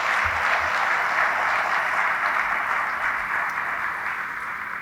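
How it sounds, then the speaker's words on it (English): A sustained round of applause from the audience for the Hansen family at the Cleveland International Hall of Fame induction ceremony, broad and even throughout, gently tapering toward the end with no speech. "Let's give Dan and the Hansen family a round of applause if we could."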